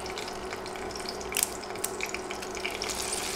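Dry red chilies, cinnamon pieces and bay leaves frying in hot oil over medium heat give a steady, faint sizzle and crackle, with a few brief stirring clatters.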